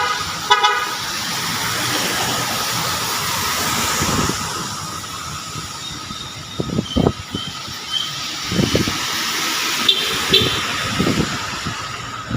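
Several car horns honk in short bursts over steady city traffic hiss and engine rumble on a busy road at Balete Drive, with toots clustering in the second half.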